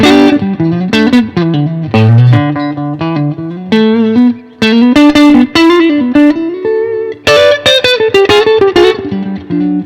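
Clean electric guitar through an amp, strummed chords and picked notes ringing clearly with a little reverb, played steadily without distortion.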